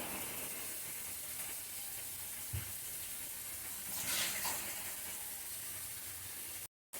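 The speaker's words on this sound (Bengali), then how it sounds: "যেহেতু আমি সর্ষের তেলে বড়াগুলি ভাজবো" Jackfruit seed fritters fry in mustard oil with a steady, close hiss and sizzle, swelling briefly into louder crackling bursts before cutting out near the end.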